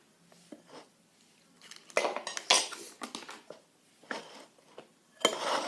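A spoon clinks and scrapes against a bowl while butter slime is being mixed, giving a series of irregular, close metallic taps and clatters with brief quiet gaps between them.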